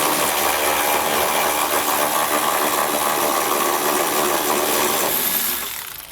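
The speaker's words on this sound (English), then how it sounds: "we're going to have 2 bolts that we need to take out. So I'll do that using a 16mm socket." A power tool spins a 16mm socket to back out a frame rail bolt on a 2019 Volkswagen, giving a steady loud whirring rasp that holds for several seconds, then stops and fades.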